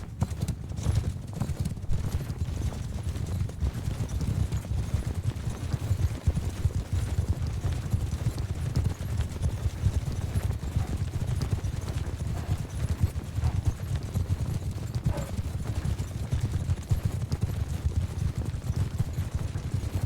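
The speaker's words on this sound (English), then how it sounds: "Horses!" Horses gallop in a battle in Mount & Blade II: Bannerlord, a dense continuous drumming of many hooves at a steady loud level for twenty seconds with no talk.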